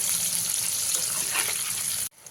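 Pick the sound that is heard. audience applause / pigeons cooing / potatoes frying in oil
potatoes frying in oil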